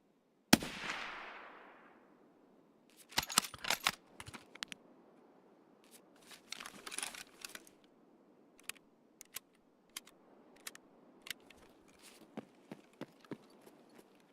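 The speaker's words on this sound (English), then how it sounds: "Gun sounds very nice." Gunfire from a video game, a first-person shooter raid against a scav: a sharp initial blast with a decaying tail, followed by scattered bursts and single cracks, moderately loud and spaced irregularly over the stretch.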